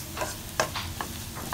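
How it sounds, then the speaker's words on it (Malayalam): Masala for a Kerala-style chickpea curry being stirred and sautéed in a pan, a soft close sizzle with a few quick scraping strokes of a spoon. "ഇപ്പം നല്ലപോലെ വഴറ്റിയെടുത്തിട്ടുണ്ട്"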